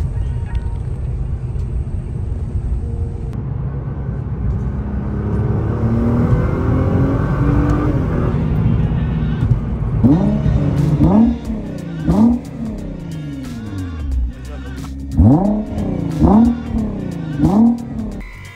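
A Nissan GTR R35 Nismo fitted with intakes and downpipes accelerates: a steady engine drone rises, then repeated rev surges climb and drop in quick bursts, loud and close.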